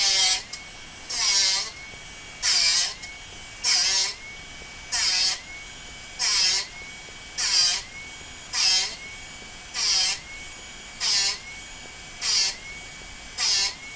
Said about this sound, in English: you're going to first hear a significant grinding sound as material's being removed